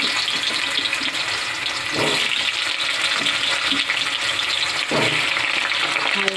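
Potato and papaya pieces frying together in a small amount of oil give off a continuous hissing sizzle with occasional soft stirring shuffles.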